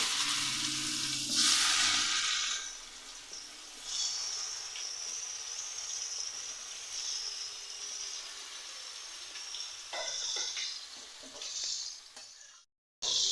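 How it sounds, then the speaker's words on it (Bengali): Boiled cauliflower pieces fry in mustard oil, a close, continuous hissing sizzle that swells and fades with stirring scrapes, then cuts off abruptly near the end. "ফুলকপিটা ভাজা হয়ে গেছে, তুলে নিচ্ছি।"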